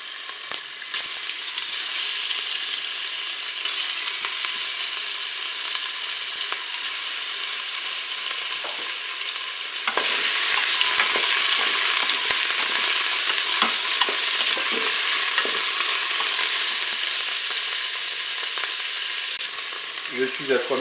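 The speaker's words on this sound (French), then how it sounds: "Mon huile est chaude, je vais mettre les boulettes de bœuf dans la cuve." Beef meatballs frying in hot olive oil inside a Cookeo pot: a dense, continuous sizzle that grows louder and harsher about halfway through, with occasional light clatter and no voices.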